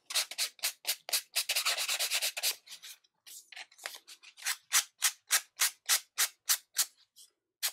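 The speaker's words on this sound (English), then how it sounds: "So I'll just take my sanding sponge." A sanding sponge rubbed against paper on a lapbook craft, heard close up as quick rhythmic scratchy strokes, a fast burst followed by slower evenly spaced swipes.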